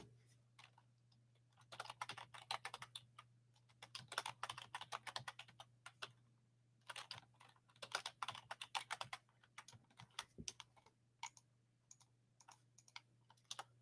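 Rapid, irregular clicking of keys as a password is typed on a computer keyboard during a VMware vCenter Server setup, coming in bursts with short pauses, quiet and close, with a steady low hum underneath.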